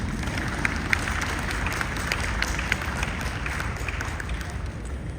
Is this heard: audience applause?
yes